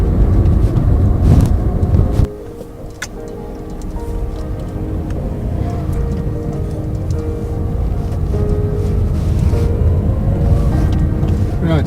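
A car drives on city roads toward the Union Buildings, its engine and tyre rumble steady and close, with a brief louder burst at the start before settling into a continuous drone.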